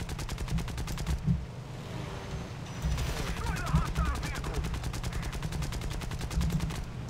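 Aircraft machine guns fire in War Thunder during a dogfight involving early biplanes, with dense rapid bursts running through most of the stretch over a steady engine drone, some voice mixed in.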